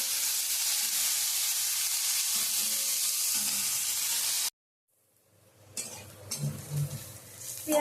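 Onions with green chillies and spices frying in a pan for a banana-flower curry: a steady close sizzle that cuts out abruptly midway, then quieter frying returns with stirring and pan knocks.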